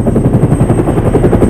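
An aircraft, most likely a helicopter, heard close and loud as a dense rhythmic chopping drone with rapid pulsing beats throughout the short stretch.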